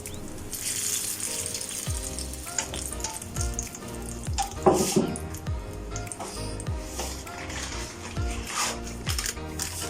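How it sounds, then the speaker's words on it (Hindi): Hot gravy poured into chicken haleem bubbles and sizzles steadily in the pot, with soft wet squishing and occasional spoon clinks, moderately loud and close, while someone talks over it. "तो जो तरी हमने निकाली थी वो मैं इसमें ऐड कर रही हूँ गरम करके"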